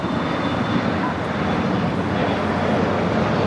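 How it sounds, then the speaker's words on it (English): An American Eagle regional plane taking off from LAX bound for El Paso, a continuous broad roar of jet engines at moderate distance, steady throughout with a faint high whine. "That was American Eagle 4876 taking off to El Paso"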